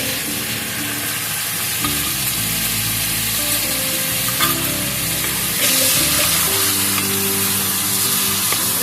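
Spice masala with whisked sour curd sautéing in a pan for a Bengali vegetarian dhoka curry, a steady close sizzle with stirring scrapes throughout and no talk.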